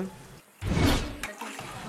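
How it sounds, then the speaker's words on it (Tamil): Water is poured over soaked rice in a pot for village-style chicken biryani: a close, short splashing gush that swells for about half a second and then settles into a lighter trickle. "அதுக்கப்புறம் தேவையான அளவு தண்ணியை ஊற்றி விட்டு"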